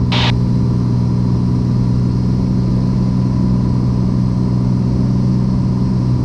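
Inside the cockpit of a Piper Comanche 250 on final approach, the engine drones loud and steady with a constant low hum, opened by a brief burst of higher noise.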